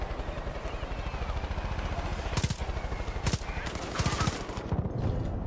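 A helicopter in a Far Cry 5 shooter game gives a rapid, throbbing rotor chop that runs throughout, mixed with bursts of heavy gunfire and some sharp impacts.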